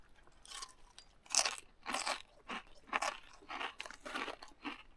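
Repeated loud, close crunching bites and chewing of Frito pie topped with fresh-cut jalapeno, eaten outdoors at a winter campsite, each brittle crunch coming in bursts with short pauses between.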